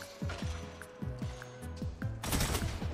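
Arbalest shots fired at a player in a first-person shooter: a quick run of sharp, echoing weapon reports with descending metallic tails, closing in a louder crashing burst, with no talk over them.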